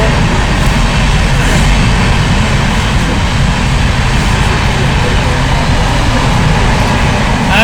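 A train passing close by: a loud, continuous roaring rumble that fills the whole stretch and never pauses, drowning out any other sound.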